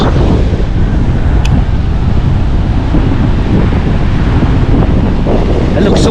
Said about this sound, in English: I just hope you guys can hear me because the wind is,